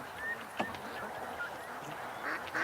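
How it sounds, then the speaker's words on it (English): Geese honk a few times at a distance among Muscovy ducks in a yard, faint calls scattered over steady outdoor background noise. "Oh, the geese are down here."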